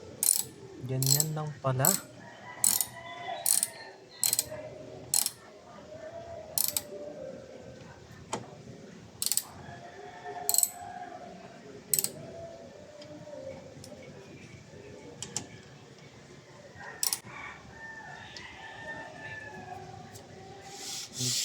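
Ratchet wrench tightening the bolts of a front bumper plate, a series of sharp clicking bursts repeating irregularly at close range, with brief speech in between.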